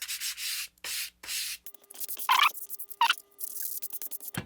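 Hand sanding on a model rocket part from an Apogee Nike Hercules kit, heard as repeated close scratchy rubbing strokes in short bursts with brief pauses between them.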